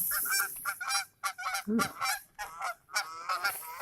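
Geese honk loudly and repeatedly close by, a rapid series of calls broken by short pauses.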